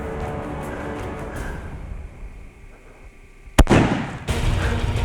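A single loud rifle shot from a hunter firing at a whitetail buck in Kansas at last light, a sharp crack followed by a brief rumbling echo that trails into outdoor ambience.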